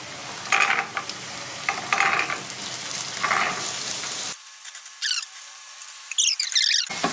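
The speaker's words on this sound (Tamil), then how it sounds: "இப்போ இதை நம்ம நல்லா ஃப்ரை பண்ணிவிட்டு" Chopped vegetables with green peas frying in a pan for a vegetable samosa filling, with bursts of scraping and stirring over a steady sizzle that cuts out partway through.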